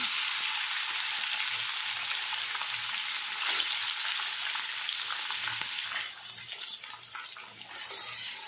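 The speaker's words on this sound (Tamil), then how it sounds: "எண்ணெய் ஹீட் ஆனோடனே சிக்கன் போட்டுருங்க" Chicken sizzles in hot oil for biryani, a loud continuous frying hiss with a few brief knocks, easing to a softer bubbling before flaring up again near the end.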